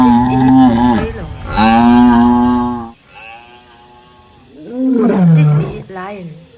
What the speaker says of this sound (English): This is buffalo.